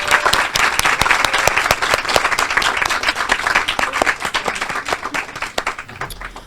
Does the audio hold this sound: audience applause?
yes